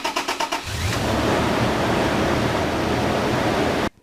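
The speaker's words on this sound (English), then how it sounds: "and then we'll just give it a quick crank, make sure everything's good to go" A Toyota FJ Cruiser engine, just fitted with new spark plugs, cranks in a few quick rhythmic pulses, then catches and runs with a steady, loud roar up close before cutting off abruptly.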